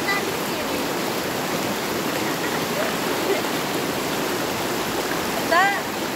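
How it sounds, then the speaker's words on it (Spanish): Rushing water from a strong river current fills the scene with a loud, steady broadband roar; a faint bird chirp breaks through near the end. "acá está fuerte la correntada y no creo que me escuche"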